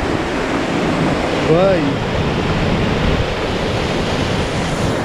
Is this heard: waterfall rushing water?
yes